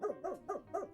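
A dog barks four times in a steady rhythm, each bark short and fairly close, with nothing else around it.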